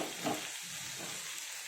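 Bitter gourd fries in a pan with a steady, faint sizzle and a brief stirring scrape near the start. No voices are present.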